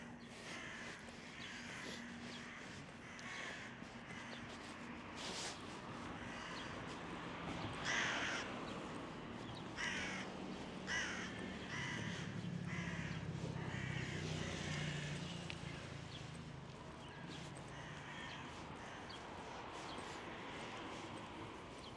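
Crows caw repeatedly in the city of Thessaloniki, Greece, harsh calls at irregular intervals, some near and some farther off, over a low street background.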